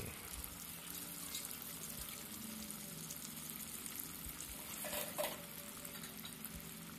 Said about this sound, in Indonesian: ya kita goreng dengan minyak yang agak panas dengan api kecil saja